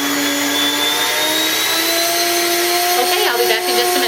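An electric grain mill grinds grain into flour for bread, giving a loud, steady whine with strong tonal hum that holds throughout, with a slight rise in pitch near the end.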